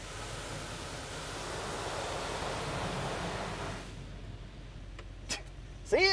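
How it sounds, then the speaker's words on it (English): An automatic car wash sprays water with a steady, loud hiss that drops off sharply near the end, followed by a few brief squeaks and clicks. "Here we go, into the car wash."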